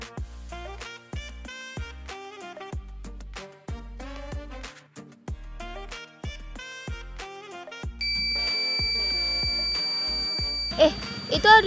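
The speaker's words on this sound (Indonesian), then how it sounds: "Itu Arduino sensor levelnya ada berbunyi tuh." An Arduino water level sensor buzzer gives a steady, piercing electronic tone that begins partway through and holds continuously beneath louder plucked background music.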